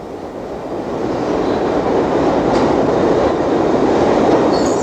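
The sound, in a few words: subway train running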